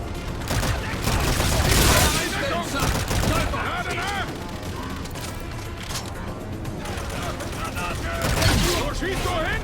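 Bursts of automatic gunfire and rapid shots from Call of Duty: Infinite Warfare on PS4, dense and loud throughout with mechanical clatter, while players talk over the firing.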